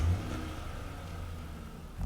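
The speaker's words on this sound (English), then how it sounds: "Time to drive me a car." A car engine in a ragdoll simulator game hums low and steady at mid volume, a continuous drone with a slight rise at the end, no talking over it.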